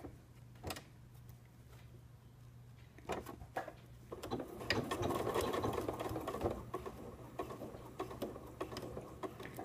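A sewing machine stitches in a side zipper, starting with a few short bursts of clicking stitches and then running in a longer, steady whirring stretch, quiet and close.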